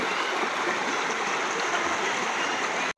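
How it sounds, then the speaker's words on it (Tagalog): Strong rushing stream water flows steadily and loudly throughout at Binaliw Cold Spring, a dense continuous roar that cuts off abruptly at the end. "Malakas po yung agos ng tubig"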